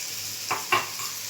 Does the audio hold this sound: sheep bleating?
no